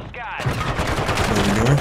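Rapid gunfire in a shooter video game where enemies drop into the area, a dense burst of shots running under excited talk for about two seconds.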